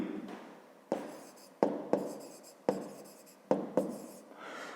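Pen scratches across paper in a run of short strokes, each starting with a sharp tap and trailing off, while a fifth-grade math exercise is written out by hand, close and fairly quiet.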